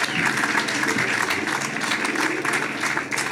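An audience at an outdoor groundbreaking ceremony for Caltrain electrification applauds steadily throughout, a dense, even wash of many hands clapping at moderate loudness.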